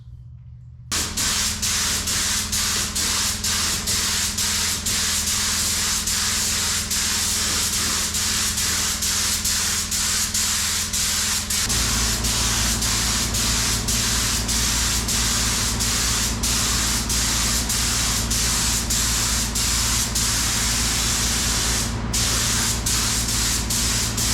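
A continuous loud spray-gun hiss of stripes being painted on a K5 Blazer runs almost the whole time. Its tone shifts partway through, and there is no talking.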